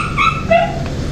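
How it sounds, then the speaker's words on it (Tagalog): A dog gives a couple of short, high whining yips close by, heard over faint background noise during a home meal. "ingay ng aso."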